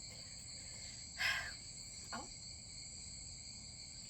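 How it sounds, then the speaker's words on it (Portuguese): Cicadas in Maceió shrill steadily through the late afternoon beside a wooded ravine. The high, even drone fills the whole stretch, with a brief spoken exclamation and a faint rustle briefly rising over it. "a gente consegue escutar a cigarra"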